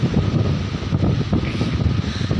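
Strong wind gusting outdoors on a rock where spice is laid to dry, a loud unbroken roar and buffeting against the microphone, close and dominant for the whole moment.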